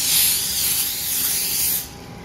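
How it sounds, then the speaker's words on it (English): A spray bottle mists the tops of bread pieces for a vegetable-based holiday stuffing, one loud, close, sustained airy hiss of about two seconds that cuts off abruptly. "I'm going to spray the tops of them"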